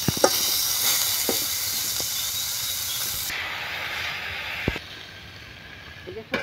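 Mixed vegetables for a Bengali pure-veg curry hit a hot frying pan with a loud, continuous hiss and sizzle that dies back after a few seconds, with a few clunks of the spoon.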